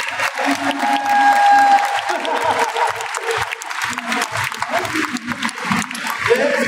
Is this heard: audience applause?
yes